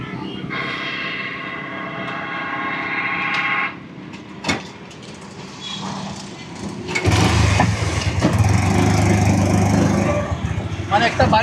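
A motorbike engine on a bike converted into a rickshaw idles and then revs up into a loud, steady drone, with people talking over it nearby.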